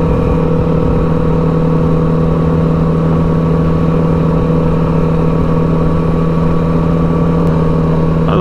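Steady, loud engine drone from a Kawasaki Ninja 400 and a Yamaha MT-09 motorcycle out on a ride, holding a constant mid-range hum with wind rush throughout and no talking.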